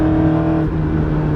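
A Honda S2000 fitted with a full catless, header-back Ballade Sports titanium exhaust hums at a steady cruise, heard from inside the cabin as a loud, even, low drone with a stable tone.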